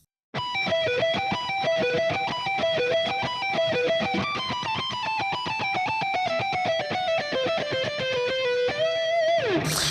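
A fast, distorted electric guitar solo runs through rapid sweeping note patterns, loud and sustained, ending on a sliding bend.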